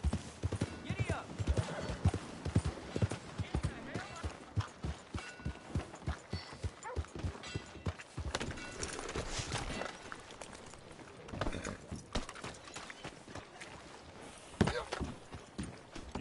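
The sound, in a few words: horse hooves in Red Dead Redemption 2 video game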